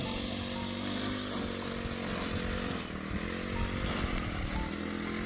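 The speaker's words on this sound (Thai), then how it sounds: "จะเสียงเครื่องตัดหญ้าก็ดังเนี่ย" A small two-stroke grass trimmer engine whines steadily at close range, its buzzing drone holding constant throughout with slight shifts in pitch.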